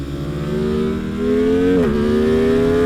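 A BMW M1000RR superbike accelerates hard on a race track. Its engine note climbs steadily, dips briefly at a gear change, then keeps rising, loud and close throughout.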